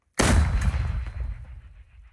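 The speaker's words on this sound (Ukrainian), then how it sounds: "Постріл!" A single heavy artillery blast booms out suddenly, then rumbles and fades over about two seconds.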